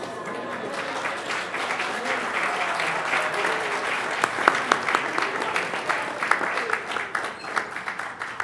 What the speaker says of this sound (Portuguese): peço um caloroso aplauso aos membros da diretoria da Academia.